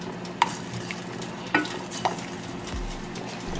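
Pork barbecue marinade being stirred and mixed in a bowl, a low wet churning with a few sharp clinks of utensil against the container, close and unaccompanied by speech.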